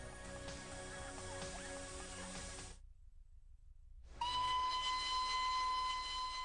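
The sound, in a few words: mountain train running, whistle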